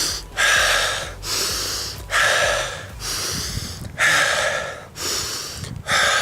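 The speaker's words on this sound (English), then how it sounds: "Okay, so have those deep breaths." Heavy, deep breaths after sprinting in soccer stamina training: slow, loud inhale-exhale cycles about once per second, close to the mic, with no talking.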